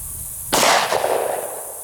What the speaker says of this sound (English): This is a Glock Gen 4 Model 20, and we're loaded up with some Underwood ammo, 200 grain jacketed hollow points.